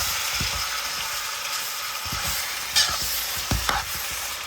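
Jamaican-style curry chicken being stirred in a pot, giving scattered scraping knocks over a constant background sizzle, close up and without speech.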